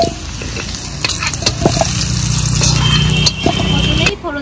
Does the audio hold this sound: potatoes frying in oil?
yes